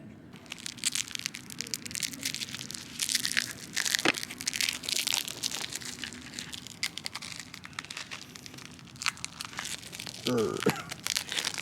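Crinkly plastic wrapping handled close up while a tail light is fitted to a Honda Ruckus scooter, a steady run of crackling and crunching rustles with a few sharper snaps.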